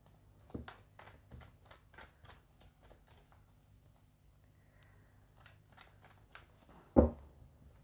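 Tarot cards being shuffled by hand, a steady run of soft riffling flicks and taps ending in one sharp slap as cards drop, close and quiet with no talking.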